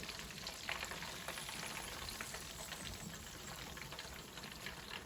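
Buffalo-based volcano shrimp sauce cooking in a pan, a faint, continuous sizzle and bubbling crackle with no talk.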